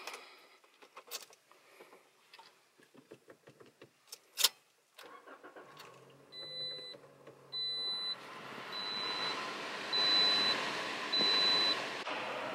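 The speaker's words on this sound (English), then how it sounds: "Now let's start the car." A 2018 Toyota Corolla iM with manual transmission starts up after some clicks and handling noises, the engine catching and settling into a steady idle while an interior chime beeps repeatedly.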